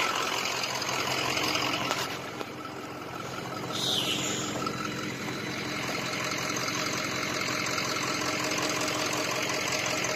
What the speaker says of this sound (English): You guys are probably mainly going to be hearing that truck